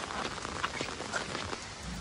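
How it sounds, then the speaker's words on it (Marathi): Light, fine drizzle falls in a steady, soft patter with a gentle broadband hiss and scattered small drops, alone and fairly close. "पाऊस पण मस्त पडतंय. रिमझिम एकदम बारीक झालं आहे."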